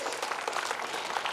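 An audience at a school opening ceremony breaks into a brief, dense burst of applause, many hands clapping steadily and fairly loud for about a second.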